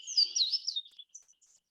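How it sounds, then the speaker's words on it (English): A Louisiana waterthrush sings a loud, ringing song with slurred high notes at dusk, fading into a few softer chips at the end, heard alone. "Water thrushes singing at dusk have a loud ringing song."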